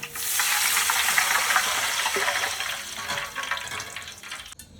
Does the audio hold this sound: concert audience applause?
no